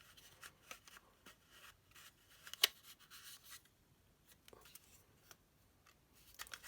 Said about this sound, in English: Let's cut it down so that we are definitely on the 2 inches.